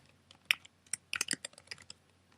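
Quick, light clicks of a computer keyboard as a short word is typed, an uneven burst of close keystrokes with a few louder taps and no talking.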